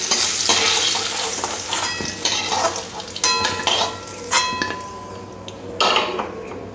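Aubergine and potato pieces frying in hot oil in a pan, a continuous close sizzle broken by repeated clinks and scrapes of a utensil against the pan, with no voices.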